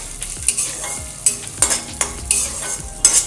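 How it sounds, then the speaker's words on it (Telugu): Peanuts fry in a pan for curry leaf rice while a spoon stirs them. Rhythmic scraping strokes sound about twice a second over a light sizzle, close by, with no talk. "ఇందులోనే one and half table spoon వరకు పల్లీలు వేసుకొని వీటిని కూడా మంచి కలర్ వచ్చే వరకు వేయించుకుందాం"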